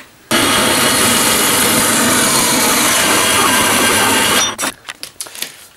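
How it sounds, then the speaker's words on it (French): A band saw cuts through material for a curved piece of DIY furniture, a loud, steady, continuous whine that runs for about four seconds before stopping, followed by a few short knocks and handling noises. "Je vais couper ça à la scie à ruban."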